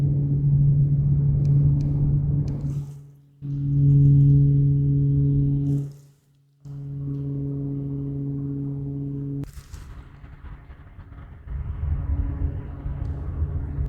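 A Razer Kunai Chroma PC case fan spins at 50% speed, around 1200 RPM. It gives a close, steady low hum with tonal drone, broken by short gaps and shifts in level.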